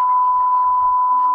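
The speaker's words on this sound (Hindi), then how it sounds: "ये बीप की बेहिसाब आवाज बता रही है" A continuous, loud, steady censor bleep covering abusive language, one unbroken pure tone lasting over a second, with faint muffled voices barely audible beneath it.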